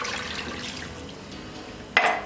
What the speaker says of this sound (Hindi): पानी ऐड करेंगे 2 छोटे गिलास।